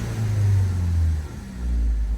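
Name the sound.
car engine running at 1800-2000 RPM during fuel cleaning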